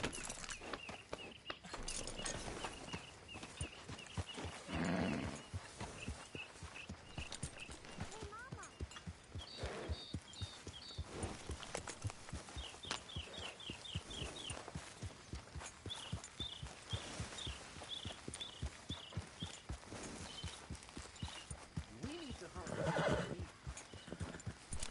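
A horse in the Red Dead Redemption 2 video game walks with steady clip-clopping hooves and neighs now and then, while someone talks quietly over the hoofbeats.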